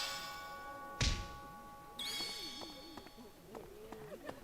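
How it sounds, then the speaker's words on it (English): A bell tone in the game Fire Emblem Three Houses rings out clearly over soft game music, followed by a few light plucked notes. "that bell tone that sounds means I've run out of activity points"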